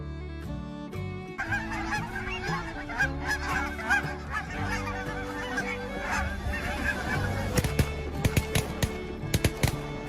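A flock of Canada geese honking repeatedly, overlapping calls over a steady background, with a few sharp louder bursts near the end.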